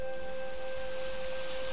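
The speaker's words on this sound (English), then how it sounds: "I wish the rain would go away" Steady rain falling, a continuous even hiss of drops with no talk, alongside a faint constant tone.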